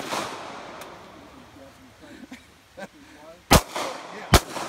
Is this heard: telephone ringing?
no